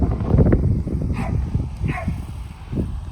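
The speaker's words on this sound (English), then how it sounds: "Got a dog barking." A dog barks outdoors near a lawn where horses are running, a few short, fairly close yelps and barks over rustling and low thudding background noise.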